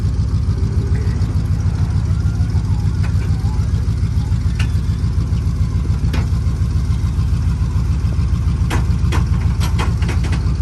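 Jeep XJ idling outdoors after being stuck in mud, its engine a steady low rumble with a faint rhythmic knock from the rear axle, plus a few sharp clicks and clanks scattered over the drone.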